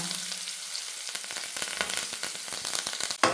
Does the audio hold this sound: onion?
yes